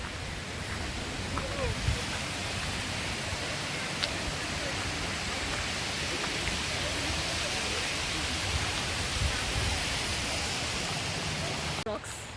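A hillside stream and nearby waterfalls make a continuous, even rush of water that fills the scene without a break.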